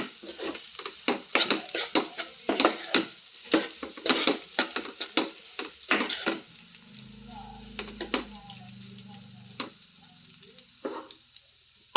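Egg masala curry is stirred in a pan with a steady run of close metallic scrapes and clinks over a light sizzle, then the stirring slows to sparse taps and quieter cooking.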